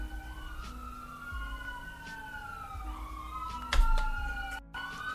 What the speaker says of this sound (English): You hear the sirens